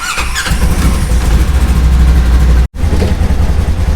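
A diesel tractor engine starts up loud and close, a brief crank catching into a heavy, rumbling idle that runs on steadily, cut by one short dropout.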